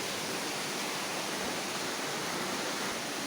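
Water rushes steadily through a fish hatchery tank holding big head carp eggs, a constant broadband hiss and gurgle, close and even throughout with no talking.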